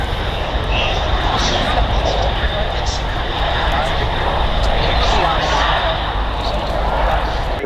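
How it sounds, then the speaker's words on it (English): A Mitsubishi CRJ 900 regional jet at Manchester Airport produces a loud, continuous broadband engine roar that holds steady throughout, close and dominant, with faint voices underneath. "this particular aircraft is a Mitsubishi CRJ 900"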